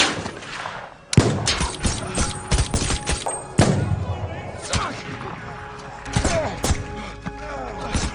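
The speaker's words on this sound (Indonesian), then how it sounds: "penembak jitu menembaki mereka" Sniper gunfire in a crime action film, a series of sharp cracks and thumps spread across the scene with loud impacts, mixed with other film sounds.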